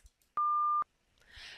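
A single high-pitched beep from the Conners CATA attention test, a steady pure tone lasting about half a second, clean and isolated against near silence, followed by faint background noise.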